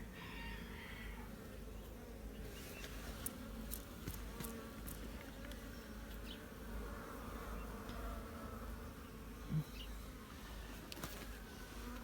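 Honeybees buzz near their hive, a soft, continuous drone with scattered passing hums close by in a quiet outdoor setting.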